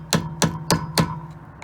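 An old screwdriver taps and pries at the flange of a BMW E83 X3 ABS reluctor ring, giving four evenly spaced, ringing metallic knocks at close range, then two fainter ticks.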